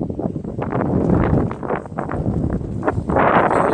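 Strong summer wind buffeting the microphone beside a carp fishing pond, gusty low rumbling with rustling, rising and falling throughout.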